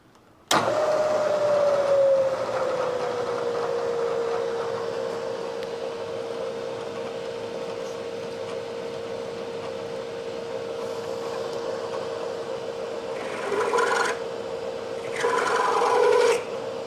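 A drill press or lathe bores through metal with a 23/64 bit at a slow speed. A steady whine begins abruptly and holds a smooth tone, and near the end two louder grinding bursts come as the bit cuts.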